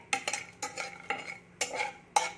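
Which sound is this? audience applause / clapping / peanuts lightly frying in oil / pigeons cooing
peanuts lightly frying in oil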